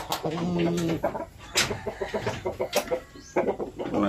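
A Japanese Shamo hen clucks close by in a short series of throaty calls, along with faint farmyard noise.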